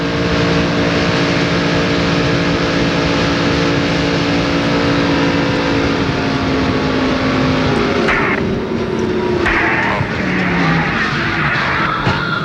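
From inside Brett Bodine's NASCAR stock car, the engine roars loud and steady at racing speed with droning harmonics, then dips and surges as the car lifts and gets back on the throttle.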